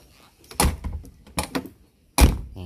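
Doors of a 1999 Mitsubishi Kuda diesel GLS being shut: three separate solid thunks spaced about a second apart, each with a short rattle, close up and alone.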